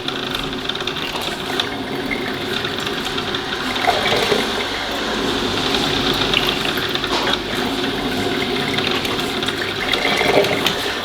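Two coffee machines gurgle side by side as they brew, a continuous watery bubbling and hiss with intermittent louder spurts and sputters, steady at moderate volume with no one speaking.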